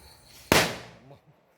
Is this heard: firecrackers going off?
yes